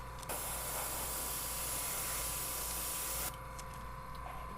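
An airbrush sprays paint onto a miniature shanty-town terrain model, a close, steady hiss lasting about three seconds before cutting off to quieter background noise.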